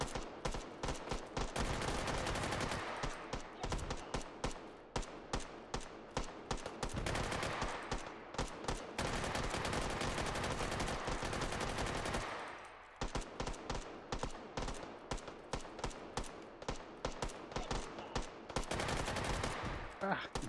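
Old west guns fire in Hot Dogs, Horseshoes & Hand Grenades, a VR shooting game, as dense rapid gunfire in long sustained bursts. The shots pause briefly, then resume loud and close, with no talk over them.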